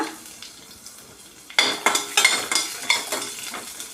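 Garlic and a small piece of ginger frying in a pan, a faint sizzle that turns busier as a utensil scrapes and knocks against the pan in quick irregular strokes.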